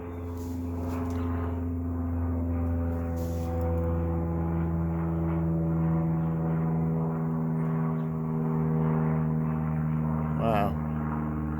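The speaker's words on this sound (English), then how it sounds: "Here's our plane." A propeller airplane flies low overhead on a quiet morning, making a steady, droning engine hum with a strong tonal buzz that holds for several seconds, with a faint brief chirp near the end.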